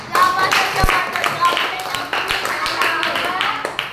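A class of students claps together in a classroom, producing scattered, uneven handclaps and taps that carry on for several seconds at moderate loudness, with some talking mixed in.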